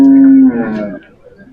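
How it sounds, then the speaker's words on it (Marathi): A working bull at a bullock market in Lasur Station, Maharashtra, gives one loud, close, deep moo that holds steady and then trails off, with faint crowd background. "पुढे बैल आलाय."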